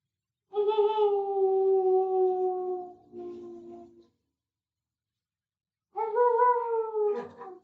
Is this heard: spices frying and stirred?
no